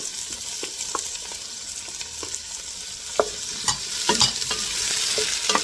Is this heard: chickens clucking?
no